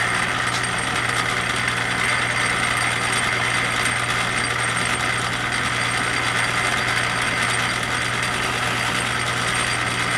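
A drill press set up for milling cuts at a 3,000 feed rate, making a continuous loud grinding whine with a steady hum under it, unbroken for about ten seconds with no talking.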